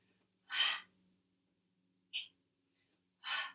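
Two sharp, forceful breath exhales during a yoga warrior flow, each about half a second, with a short softer puff between them; close and clear over a quiet room hum.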